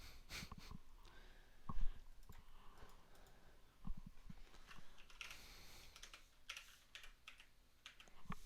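Keys clatter on a computer keyboard in quick, uneven bursts during a live math stream, with a few louder clacks standing out against a quiet room and no talking.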